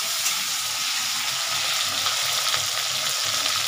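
Tomatoes dropped into hot oil in a pan give a steady, close, hissing sizzle that stays even throughout, with no talk.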